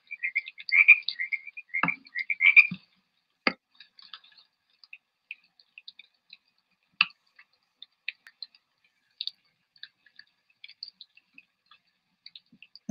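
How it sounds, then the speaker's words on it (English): Frog calls played back through a speaker to a mountain lion at its deer kill, a burst of rapid croaking trills in the first few seconds, then sparse faint clicks and calls over quiet. "We've got our frogs playing."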